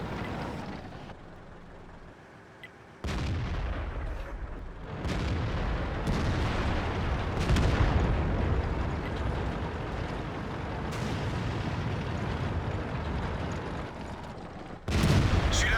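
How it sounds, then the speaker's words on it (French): Tank cannon fire in a tank battle video game, with several heavy booming shots a few seconds apart, each followed by a rumbling, rolling tail over constant battlefield noise. "Celui-là a ricoché."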